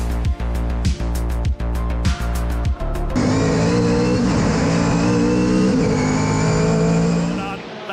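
Mazda RX-7 and sports sedans racing on a hilly track, engines roaring loudly at close range, with rhythmic gear-shift dips early on before a sustained high-revving pack passes, commentary voices over the top.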